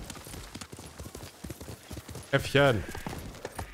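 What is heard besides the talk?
horse hooves clip-clop, from a video game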